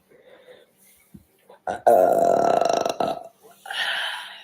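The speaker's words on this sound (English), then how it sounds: "I love to burp" A woman lets out a long, loud, drawn-out burp lasting over a second, preceded by a few faint sounds and followed by brief noise.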